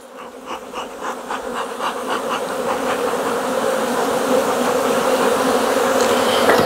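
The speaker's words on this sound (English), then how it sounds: "Wow, look at those bees." Swarm of honeybees buzzing around hives after almond pollination, a dense continuous drone close by, growing louder as individual bees whir past, with no talking.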